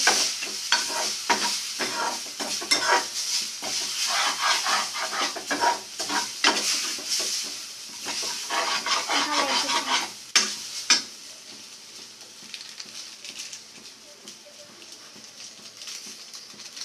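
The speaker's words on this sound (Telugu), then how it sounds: "ఇప్పుడు మ్యాగీ వేసుకోవాలి. మసాలా కూడా వేసేసుకోవాలి. ఇది మ్యాగీ బాగా కలుపుకుంది." Maggi noodles with masala being stirred in a hot sizzling pan, with scraping strokes and crackling frying up close, busy for about ten seconds and then easing into a quieter, steady sizzle.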